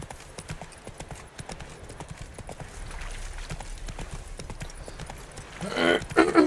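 Roach the horse's hooves clip-clopping at a steady trot in The Witcher 3, a close, regular rhythm of hoofbeats with a louder burst of game sound near the end.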